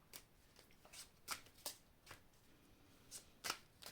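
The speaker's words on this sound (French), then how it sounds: "Donc je vais prendre les cartes ici pour compléter, donc les cartes de l'oracle du monde." Oracle cards are shuffled in short bursts, with several crisp riffles and flicks of the deck close by in a quiet room.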